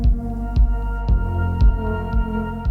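A synth preset from the Novation Launchkey Play plugin plays five evenly spaced bright plucked chords. Each has a sharp attack and a deep, sustained low end, loud and clean, with no voices.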